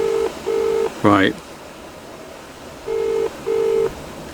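Unanswered telephone ringback tone on a call to a farmer, steady paired tone bursts repeating in a slow on-off cadence, with a short burst of speech in the gap between rings.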